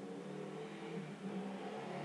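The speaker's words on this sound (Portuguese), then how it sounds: "Espera a moto passar." A motorcycle engine hums steadily nearby, rising slightly in pitch as it passes, with no voices.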